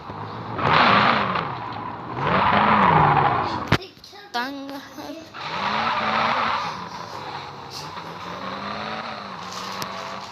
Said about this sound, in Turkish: Araba kayıyor arkadaşlar.